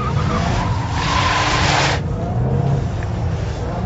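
A project car fitted with BMR progressive-rate lowering springs is driven hard through a corner, its tires squealing and skidding loudly over a steady engine roar, with the screech easing after a couple of seconds.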